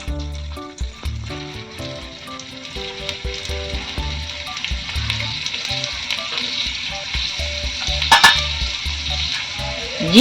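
Black pepper and pomegranate peel sizzle steadily in hot coconut oil for a kadi, a continuous close frying hiss with occasional stirring knocks and one brief louder clatter, no talk.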